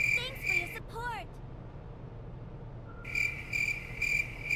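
A crickets sound effect plays a steady high, pulsing chirp over a low background hum, breaking off briefly while a short voice-like sound passes, then resuming in regular bursts.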